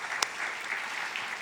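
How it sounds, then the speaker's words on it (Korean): A church congregation bursts into applause, a brief, dense wash of many hands clapping together, steady and moderately loud for just over a second. "우리에게 새해를 주신 하나님께 좀 영광의 박수를 올려드렸으면 좋겠습니다"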